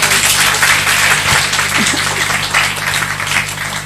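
Audience applause at a business meeting: dense, sustained clapping from a large crowd, loud and steady throughout with no talk over it.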